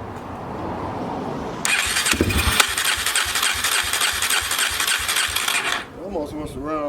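A 2004 Yamaha TTR 250 motorcycle engine cranks and catches, running roughly with a loud, broadband roar for several seconds before cutting out abruptly, leaving quieter background hum.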